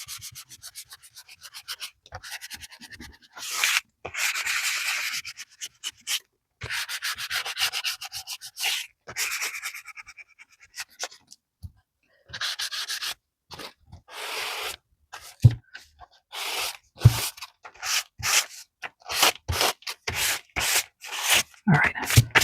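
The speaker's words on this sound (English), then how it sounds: "Let's just try sanding it to take some of that gloss off" Sandpaper rubbing back and forth on a surface in repeated bursts of gritty scraping, close and fairly loud, with short pauses between strokes.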